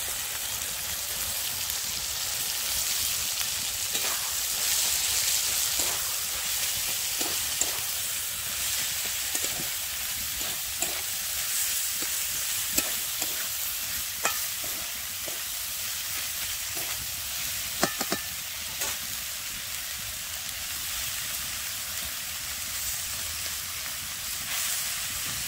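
Cabbage frying in a spiced masala paste, with a steady hiss of sizzling throughout and scattered soft clicks and scrapes of stirring, close and moderately loud, no talking.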